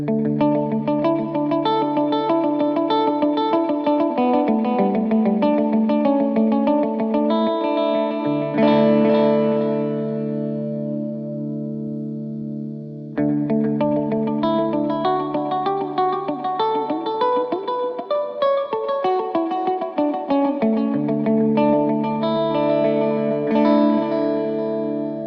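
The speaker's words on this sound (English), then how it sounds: "Let's hear the delays a bit more distinctly." Guitar played through the delay effect of a Line 6 POD Express, with sustained chords and notes trailing into repeating echoes, loud and close and fairly continuous, cut by a short pause partway through.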